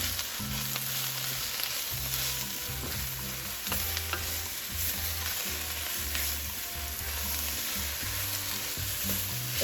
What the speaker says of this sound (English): You want to cook this until your spinach gets nice and wilted.